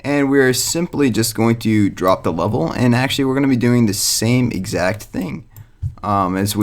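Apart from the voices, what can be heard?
None of the usual background noises is heard.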